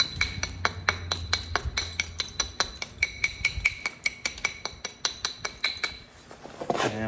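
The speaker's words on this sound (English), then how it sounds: "And we flake heavily across it." Sharp stone-on-stone clicks of flintknapping as flakes are struck from a coral stone point, a steady series of roughly twenty close, crisp taps in quick rhythm, with no talking.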